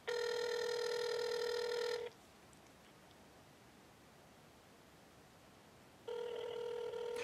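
A telephone rings through a cell phone's speakerphone, heard as two loud, harmonic-rich ring bursts separated by about four seconds of faint hissing line noise.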